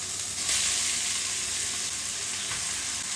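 Boiled, mashed potatoes are sautéed with onion and tomato in a pan for poori masala, producing a loud, steady sizzle with soft stirring swishes throughout.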